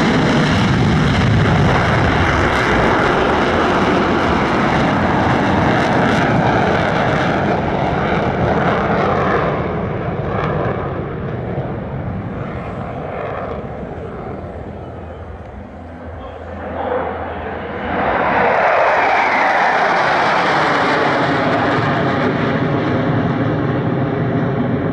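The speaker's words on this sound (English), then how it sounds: "Some additional Sukhoi action now" Russian Knights Sukhoi Su-30SM jets roar overhead at the LIMA Langkawi 2023 airshow, a loud continuous jet rumble that dips, then surges again as the aircraft pass close by.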